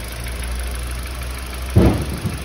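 A car engine runs just after a spark plug change, a steady low idle rumble with a louder knock or thump near the end, close by with no voices.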